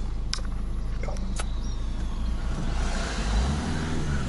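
Road noise and a steady engine hum come from a car's cabin as it drives along. Near the end, the low rumble shifts slightly.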